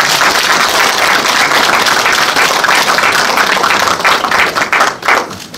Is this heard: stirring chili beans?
no